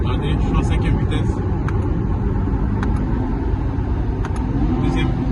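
A Corvette C8 Stingray cruising in fifth gear gives a steady, loud low engine drone and road rumble throughout, heard from inside the car while a person talks over it.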